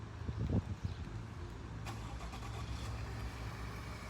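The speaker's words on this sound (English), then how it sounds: "I'm actually going to show you also one of my favorite features that comes stock with this truck, which is the start remote. And let's do a little cold start." A stock pickup truck fitted with a light bar and bull bar, cold-started by remote start: an engine turns over and settles into a steady, moderately loud idle rumble.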